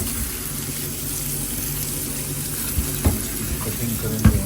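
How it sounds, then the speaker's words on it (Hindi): Potatoes and capsicums are rinsed under a running kitchen tap, a steady wash of water with a few louder splashes and clunks near the end. "शिमला मिर्च और शिमला मिर्च को भी अच्छी तरह से, आलू को भी अच्छी तरह से धो लेंगे।"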